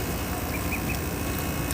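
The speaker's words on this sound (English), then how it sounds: "This is our lovely ducks." A flock of ducks quacks in a dense, continuous wash of calls, close and moderately loud with no pauses.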